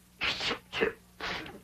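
Three quick sneezes burst out about half a second apart in a sitcom scene, each one loud and close and sitting on a faint steady hum.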